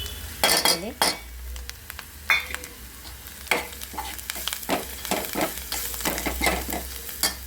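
Onions and garam masala frying in a pan for a mango-tomato chutney, with steady sizzling and repeated sharp clinks of a spoon stirring against the metal, close and clear.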